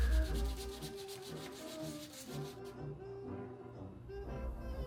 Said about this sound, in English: Quite a bit of hand sanding.